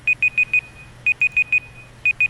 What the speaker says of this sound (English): Is that our timer going on?